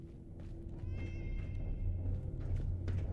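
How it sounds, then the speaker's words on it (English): A cat meows in the Fallout 4 game world, a few drawn-out, wavering cries at moderate distance over a steady low ambient drone, with no talk. "A cat."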